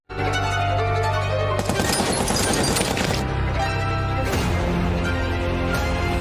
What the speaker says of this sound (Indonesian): langsung memberondongnya dengan beberapa tembakan